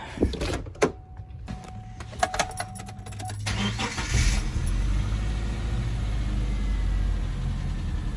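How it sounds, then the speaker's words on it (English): A 1999 Subaru engine cranks after a repair for fault codes, then catches and settles into a steady, close idle with low rumble for several seconds, preceded by keys jangling and clicks. "And the car is running."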